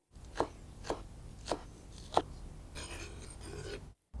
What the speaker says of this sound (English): And also chop it finely.